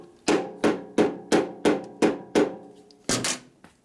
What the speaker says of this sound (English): I'm going to go ahead and knock the swing arm back a little bit with a hammer here